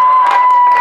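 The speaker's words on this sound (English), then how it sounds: "look at the round of applause for that" A crowd applauds and cheers, with bright broadband clapping and whoops filling a short burst close up and loud throughout.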